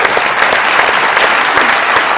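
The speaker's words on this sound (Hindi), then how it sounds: "बहुत सारी तालियां इन साहब के लिए।" A studio audience at a Pakistani comedy talk show applauds loudly and steadily, dense clapping filling the whole stretch without a break.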